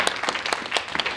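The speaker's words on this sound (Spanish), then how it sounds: "Vamos a dar un fuerte aplauso a la palabra." A church congregation applauds loudly in a brief burst, many hands clapping in a dense, fairly close patter.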